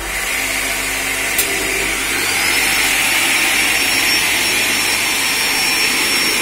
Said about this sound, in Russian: Запускаем двигатели.